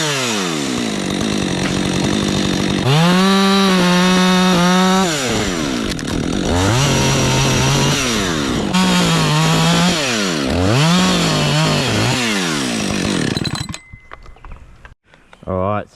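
A chainsaw cuts into a big dead gum tree struck by lightning, running loud and near with repeated revving surges as the engine bogs and climbs through the wood, then cuts off near the end.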